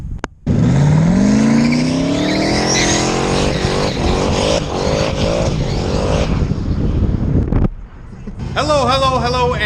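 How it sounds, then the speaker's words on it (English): A turbocharged LS-swapped Ford Mustang engine warms up close by, its loud exhaust rising in a sweeping rev before settling into a steady idle; someone talks over the engine near the end. "I got the Mustang pulled out of the shop right now, warming up"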